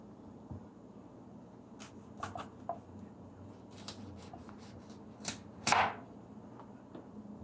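A knife slices the flesh of a green June plum away from its seed, giving a handful of soft, irregular scraping cuts spaced apart at close range over a quiet background.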